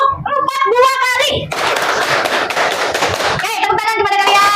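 Schoolchildren in a classroom clap a counted rhythmic pattern, crisp bursts of hands in repeated groups, framed by a lively voice speaking before and after.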